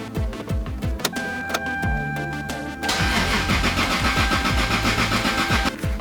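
A Toyota MK4 Supra engine cranks with a rapid, rhythmic starter churn that carries on steadily for about six seconds, growing louder and denser partway through, close and alone with no voices.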